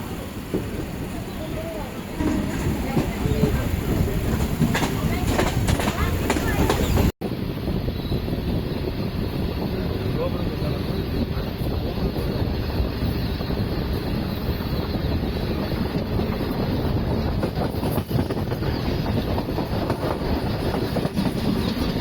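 Interior of a Thiruvarur MEMU passenger train in motion, a steady loud rumble with wind buffeting and faint clickety-clack of the rails throughout, with people talking in the background.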